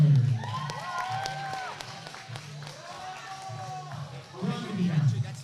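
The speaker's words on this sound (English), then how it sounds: "can we please have a huge cheer for Indigo?" Crowd cheering and clapping at a 2022 youth podium ceremony for the girls' finals, a steady mix of applause and shouts that swells louder toward the end, with voices calling out over it.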